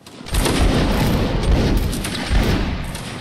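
A musket volley from a Napoleonic Wars line battle, a dense crackling fusillade of many shots fired together that booms up loud and then rolls on, without voices.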